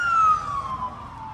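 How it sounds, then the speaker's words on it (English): Ambulance siren passing by a house, a single descending wail that falls in pitch as the vehicle moves away, fairly close and fading over a low rumble. "We got an ambulance flying by the house right now."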